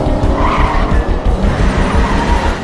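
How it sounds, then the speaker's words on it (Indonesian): Tires squeal and skid loudly and continuously as cars swerve during a high-speed car chase, with engine roar underneath throughout. "eunsi terpaksa sendirian membawa mobil itu untuk kabur dari kejaran Jecol"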